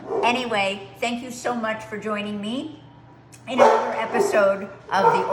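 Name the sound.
dog barking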